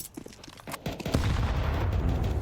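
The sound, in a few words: gunfire in Counter-Strike 2 video game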